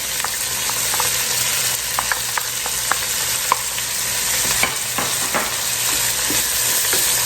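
Green pepper and celery cooking in a pan, a loud steady sizzle with scattered clicks and scrapes of a utensil stirring, no talking.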